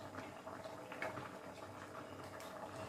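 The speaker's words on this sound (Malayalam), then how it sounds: "കറി നന്നായിട്ട് തിളയ്ക്കുന്നുണ്ട്." Dried shark curry with brinjal bubbling in a pot, soft continuous boiling with small pops and gurgles, close and fairly quiet.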